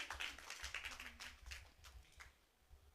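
Clapping from an audience at the closing ceremony of a Bengali poetry and music tribute program, a brief burst of scattered hand claps that thins out over a few seconds, fairly faint and without talk.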